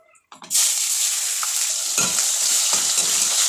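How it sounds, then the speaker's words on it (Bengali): Chopped onion and tomato dropped into a hot wok with cumin and bay leaf tempering, bursting into a loud, steady sizzle after a brief quiet start, with a few scraping stirs. "পেঁয়াজটা একটু হালকা লাল লাল করে ভেজে নেবো, পেঁয়াজ আর টমেটো।"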